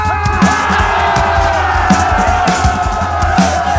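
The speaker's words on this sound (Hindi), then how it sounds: "दिल्ली के रामलीला मैदान में ओल्ड पेंशन स्कीम लागू करने को लेकर जो भीड़ थी, जो हुजूम थी दोस्तों" Large crowd of government employees gathered at Ramlila Maidan in Delhi to demand the Old Pension Scheme, a dense, continuous roar of many voices with chanting-like swells and drumming-like thumps, loud and steady throughout.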